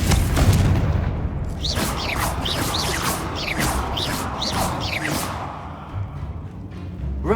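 Confringo blasts in Hogwarts Legacy: a loud, rumbling explosive burst followed by a quick string of crackling, chirping magical impacts, then a fading rumble.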